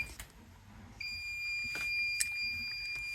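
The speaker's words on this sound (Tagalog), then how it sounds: "Pero nagbibip siya, may alarm." Bluetti AC300 power station with B300 battery sounding an error alarm over a communication cable fault, a thin high-pitched electronic tone that starts partway through and holds steady beside a few clicks and handling knocks.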